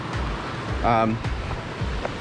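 Rushing water at the lower part of a hidden waterfall along the Great Ocean Road makes a steady broadband roar, with a brief voice-like tone rising over it mid-clip.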